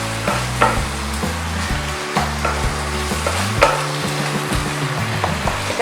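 Soybean muitha curry being stirred in a hot pan: a steady sizzle of frying runs throughout, with repeated scraping stir strokes at a loose rhythm, close up and without talk.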